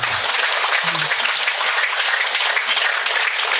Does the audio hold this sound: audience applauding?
yes